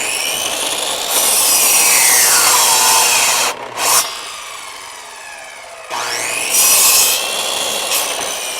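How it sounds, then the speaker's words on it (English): A miter saw cuts wooden boards in a woodshop, two loud, harsh bursts of the spinning blade, each rising and sliding down in pitch as it bites the wood, with a short quieter pause between them. "I need to get the miter station, or the miter saw, out of the miter station so I can move it outside and make those cuts"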